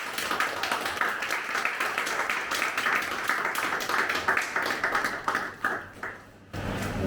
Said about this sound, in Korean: 우리 큰 박수로 환영하면서 우리 모시도록 하겠습니다